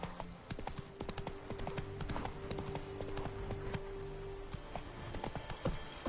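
Rhythmic clip-clop of the horse Roach galloping across ground in The Witcher 3, steady repeated hoofbeats under a low sustained game soundtrack hum, moderately quiet.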